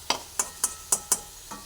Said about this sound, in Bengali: বেশি বাড়িয়ে ভাজলে পুড়ে যেতে পারে, সেই জন্য মিডিয়ামে দিয়েই আমি ভাজাটা রেডি করে নিচ্ছি।